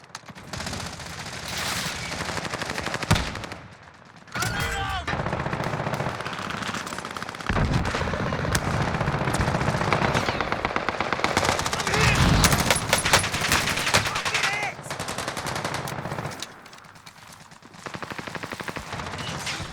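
Heavy gunfire in Call of Duty Warzone on the Caldera map: sustained machine-gun bursts and rapid shots fill nearly twenty seconds, broken by a few short pauses, loud and close.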